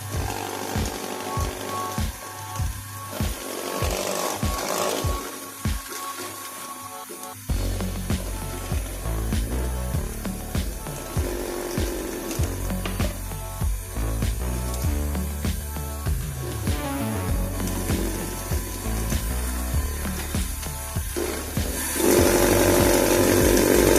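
Electric mixer beating orange juice cake batter, a steady whirring motor hum that starts in short pulses, then runs continuously and grows slightly louder toward the end, with no talking.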